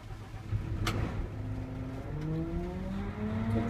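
A Krone Big X forage harvester's engine fires up with a sharp crank, then settles into a rising, steady rumble that climbs in pitch, heard alone and moderately loud.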